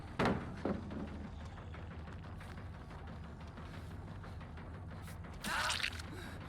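Mechanical grinding and creaking of an exit gate opening in the horror game Dead by Daylight, a steady rumbling mechanism running for several seconds with louder metallic bursts near the start and end.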